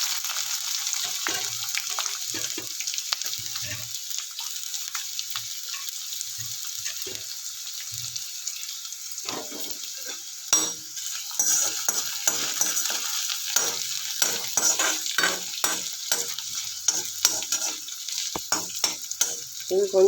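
Sliced onion and garlic fry in a pan, a continuous bright sizzle with spatula scrapes and stirring clatter growing busier in the second half, with no talking.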